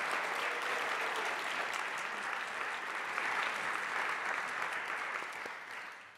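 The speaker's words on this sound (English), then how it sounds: "Let's make an applause to all." Audience applause for the panelists at the close of a talk on exposing crimes, a dense, steady wash of clapping from a large crowd that holds evenly, then thins and fades near the end.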